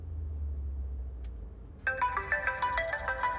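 After a low rumble, a bright electronic phone ringtone starts up, playing a repeating melodic pattern close and clear.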